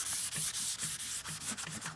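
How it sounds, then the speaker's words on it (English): Rapid, close back-and-forth scrubbing of a 220-grit sanding pad on a cedar chest, a continuous dry rasp with a quick even rhythm and no voices. "So I'm going to go over with the 220 sanding pad."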